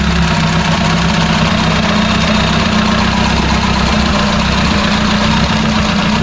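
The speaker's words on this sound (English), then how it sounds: "Okay, let's fire it up again. Ignition on." Ford Cortina GXL engine idling steadily after a restart, a continuous low rumble with a constant hum and no voices, holding an even pitch throughout.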